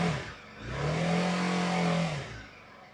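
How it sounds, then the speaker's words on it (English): BMW G310R single-cylinder motorcycle engine, just fitted with a swapped airbox, revved once close up: a steady idle swells into a sustained rev lasting about a second and a half, then drops back to idle, with no talking. "Let's give it a little rev."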